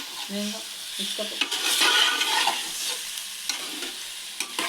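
Oil frying in a pan while a spoon stirs and scrapes, a continuous sizzle with clinking utensil strokes, close and fairly loud, with a short stretch of speech at the start.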